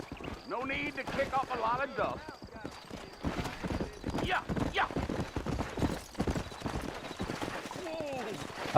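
Horse hooves clip-clop in Red Dead Redemption, with a steady rhythmic beat under frequent talk and game voices.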